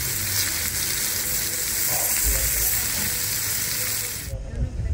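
Veal sizzles steadily on a hot cooking surface at a mountain restaurant in Tejeda, Gran Canaria, a close, loud, even frying hiss that drops away sharply near the end.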